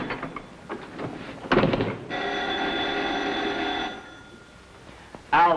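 A desk telephone rings in an office in a steady electric-bell burst of about two seconds, after earlier clattering noises and before a loud bump at the end.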